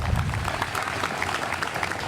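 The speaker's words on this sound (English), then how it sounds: "Please give a round of applause to Coach Hurt for all that he did for Morgan State University." Audience applause at an outdoor dedication ceremony in Legends Plaza, honoring Coach Hurt of Morgan State University; steady, dense clapping from a crowd fills the whole moment at an even level.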